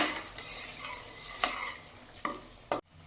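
Food being stirred in a sizzling pot, with a spoon scraping and a few sharp clinks against the metal.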